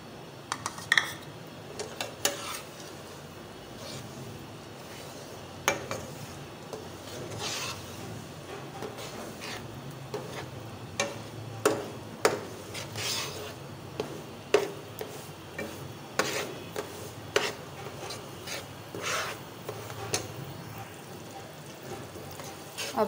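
Semolina roasting in hot desi ghee while a spoon stirs it, giving scattered light scrapes, ticks and clinks against the pan over a soft, steady background.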